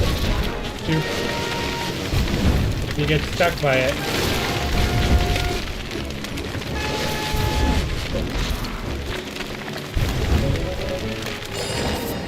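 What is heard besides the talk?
rain and thunder in a video game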